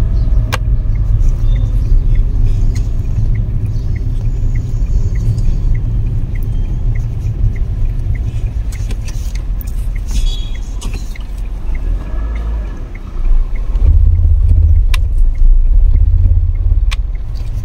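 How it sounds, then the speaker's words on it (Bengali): Car moving on the road as the driver shifts from second into third gear, a steady close engine and road rumble with a brief dip and then a louder surge as it pulls away again. "সেকেন্ড গিয়ার ছিল, থার্ড গিয়ার করে দিলাম, এবার যাচ্ছি আবার।"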